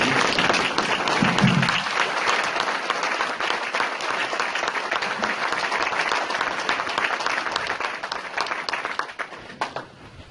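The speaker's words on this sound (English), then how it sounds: "I'd like to give Mr. Joseph Simmons a round of applause" A room full of people applauds at a safety award ceremony, a steady dense wash of clapping that holds for about nine seconds and then thins and fades out at the end.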